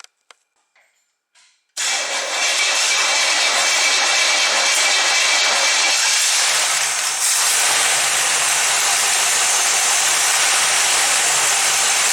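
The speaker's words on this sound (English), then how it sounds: "start the car and run it for about 30 seconds just so that the power steering fluid can work its way through the system" A 1966 Chevy Caprice engine, just fitted with a replacement power steering pump, starts after a few faint clicks and then runs at a steady, loud, broad roar throughout, close by, with no talking.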